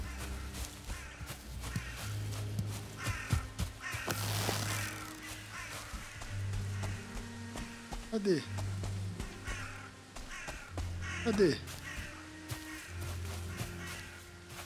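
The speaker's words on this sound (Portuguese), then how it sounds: "Cadê o pássaro?" In the video game Valheim, a crow gives a couple of rough caws at a distance, partly buried under steady male chatter, footsteps and game sounds.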